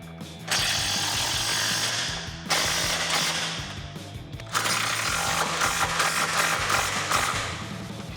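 Ratchet clicking as the top shock bolts are tightened on a 1997-2006 Jeep Wrangler TJ during a Rough Country 2-inch suspension lift install, in three bursts of rapid mechanical clatter separated by short pauses.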